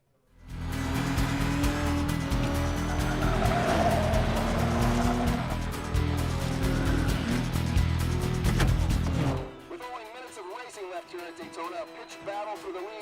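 Race cars roar at full throttle in a Ford vs Ferrari racing film scene, with loud, dense engine noise for about nine seconds that then cuts to quieter, higher whining engine sounds.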